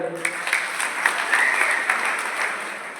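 An audience at a public gathering about local problems breaks into applause. A steady wash of clapping from many hands runs throughout, with a voice speaking over it.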